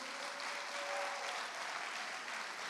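A church congregation applauds to acclaim the Lord, a dense, steady wash of clapping holding at even strength for the full stretch, with a faint sustained tone running underneath.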